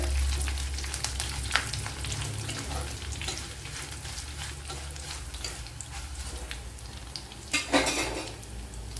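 Garlic and two dried red chillies crackling in hot oil for gooseberry pickle, a continuous close sizzle with repeated metal spoon scrapes and clinks against the pan, growing briefly louder toward the end, no talking.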